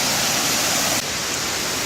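Twin Falls waterfall in Mureung Valley, a steady, loud, broadband rush of falling water that fills the space continuously, close by with no voices.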